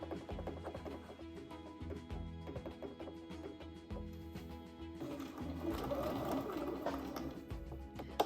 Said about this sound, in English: we'll just continue sewing all the way down to the bottom of the hem